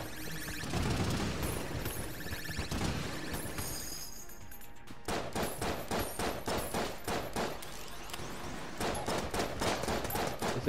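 AK rifle fire in the twin-stick shooter Enter the Gungeon, starting as a dense crashing din and then breaking into rapid, evenly spaced bursts of sharp shots that run to the end.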